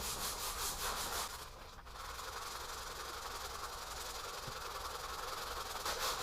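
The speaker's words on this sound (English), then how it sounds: "Then we're just gonna go ahead and get the scrubbing." Sandpaper wet-sands a plastic surface, a continuous, close, gritty scrubbing sound with a steady back-and-forth texture and no speech.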